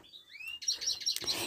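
Caged goldfinches and canaries chirp in quick bright bursts, a rising whistle followed by a rapid series of sharp close tweets, with no talking.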